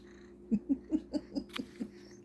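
Chunky the cat purrs up close in a rhythmic series of about seven soft, low pulses, evenly spaced, with no voices over them.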